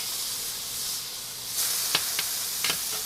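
A burger sizzles on a stainless steel griddle over an induction range, a steady close hiss that swells when the patty is set down, with a few sharp spatter pops, no voices.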